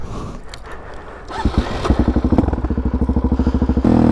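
A supermoto motorcycle starts pulling away, the engine's rapid, punchy exhaust pulses building into a fast, regular beat close by after a quieter opening.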